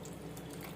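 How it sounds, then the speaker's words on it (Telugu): Water poured into coriander bajji batter with a pinch of soda and salt, a brief, steady splashing pour heard close up. "వాటర్ వేసుకుంటున్నాం"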